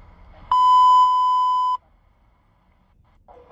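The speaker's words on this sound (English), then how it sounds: "Bronx announcing second alarm has been transmitted for box 2588" A single loud, steady FDNY fire dispatch alert tone sounds alone for just over a second, signalling a second alarm for a Bronx box covering multiple dwellings, followed by quiet and a faint burst at the end.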